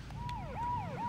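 An ambulance siren in the video game Saints Row wails in quick, repeated rising and falling sweeps, loud and close, over a steady low engine rumble with no talking.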